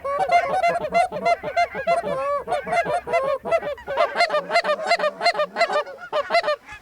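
A flock of wild geese honk over a hunting spot, many loud overlapping calls in quick irregular bursts that keep going without a break, close and clear with no talk over them.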